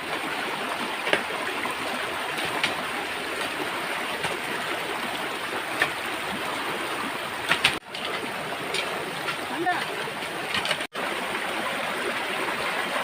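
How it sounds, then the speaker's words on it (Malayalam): Stream water flowing steadily through farmland near a waterfall, a continuous broadband rush that stays even and close throughout, with faint bird calls over it and no talk. "ഇപ്പോൾ ഒരു കൃഷിയിടത്തിൻ്റെ നടുക്കെ കൂടിയാണ് വെള്ളം പോയിക്കൊണ്ടിരുന്നത്"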